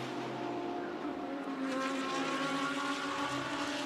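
Number 6 Get Speed Mercedes GT race car at Monza during qualifying, a high sustained engine roar over a steady broadband rush, rising slightly as it passes.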